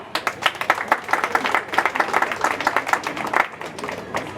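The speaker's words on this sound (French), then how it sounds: "nous vous demandons encore une fois de remercier et d'applaudir très fort" Loud, steady applause from a crowd at a ceremony installing a chief in Uvira, with many hands clapping continuously for several seconds before easing off.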